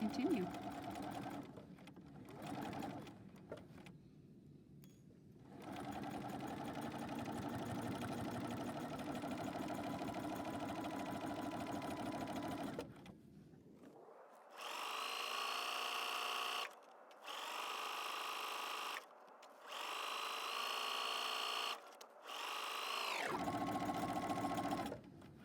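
A sewing machine stitches a pillowcase, with a long steady run first, then several short bursts of forward and reverse back-stitching separated by brief pauses, loud and close, with a voice talking over parts of it.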